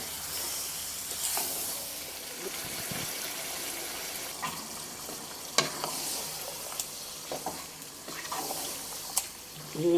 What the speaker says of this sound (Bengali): এবার আমি নিয়ে সুন্দর করে মিশিয়ে নিচ্ছি এইভাবে